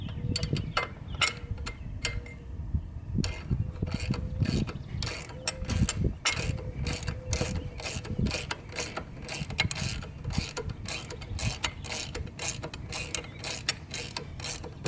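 A ratchet tightens bolts on the front fender lip of a Harley-Davidson 883, with rapid repeated clicking strokes that come close and loud in steady bursts across the whole span.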